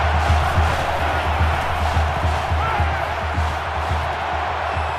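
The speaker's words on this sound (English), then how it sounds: "The crowd is always into it here." Stadium crowd at an LSU football game roaring steadily, a dense sustained wash of cheering and whoops throughout with no clear voices standing out.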